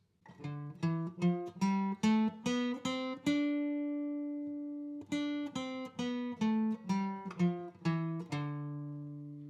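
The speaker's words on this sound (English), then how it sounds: "So the D Dorian is going to sound like this." A D Dorian scale is played on guitar, single plucked notes rising in a steady run, one note held long, then descending back down, clean and close with each note ringing out.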